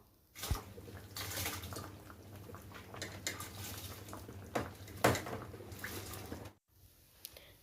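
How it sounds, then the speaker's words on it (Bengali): Water bubbles and gurgles at a rolling boil in a pot, close by, with scattered pops and splashes, then cuts off briefly near the end. "দেখুন জলটা কেমন টকবক করে ফুটছে"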